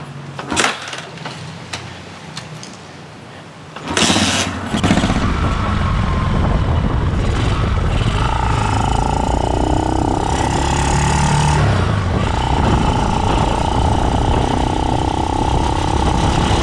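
Yamaha motorcycle kick-started, a few sharp mechanical clunks of the kick lever followed by the engine catching and settling into a loud, steady close-up idle with a rough, throbbing tone.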